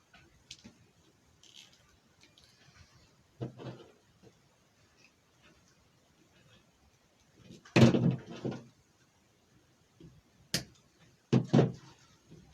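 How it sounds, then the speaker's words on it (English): A front door opens and closes as someone walks into a house, giving several sharp knocks and clunks scattered across a quiet room, with the loudest thuds near the middle and end. "Somebody just walked through my front door."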